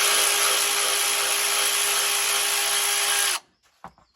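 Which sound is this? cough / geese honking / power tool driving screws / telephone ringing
power tool driving screws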